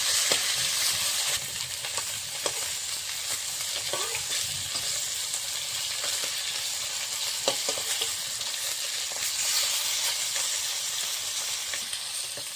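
Fried rohu fish is stirred in a pan of hot oil, a steady close sizzle with repeated scraping stirs and light clinks, no talk.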